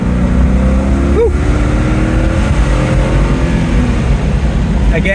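A Porsche 928 GTS V8, a 1978 car, holds a loud sustained rev around 5,000 RPM under a steady droning tone throughout, heard from inside the car on a road drive.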